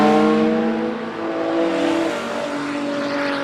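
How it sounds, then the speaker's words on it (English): A BMW stock car engine howls loud and steady at a racetrack, its pitch dipping briefly and then climbing again as the car holds high revs through the race. "Just listen to that BMW singing"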